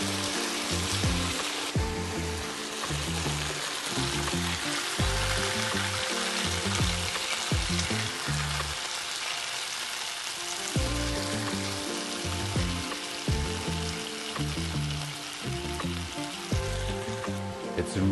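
Strips of beef brown in a hot oiled pan for black pepper beef, a dense, steady sizzle crackling throughout with intermittent stirring and scraping, close up and with no talking.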